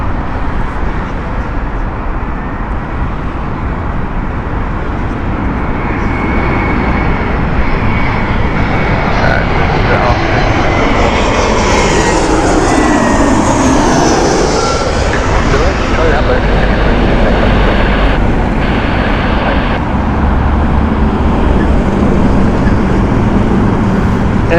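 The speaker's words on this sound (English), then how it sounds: "A320 coming in from Paris." A 12-year-old Air France Airbus A320 lands at Heathrow from Paris, its loud jet roar swelling and sweeping in pitch as it passes close, with someone talking over it at times.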